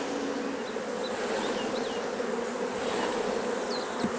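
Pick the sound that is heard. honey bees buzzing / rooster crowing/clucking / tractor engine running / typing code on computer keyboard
honey bees buzzing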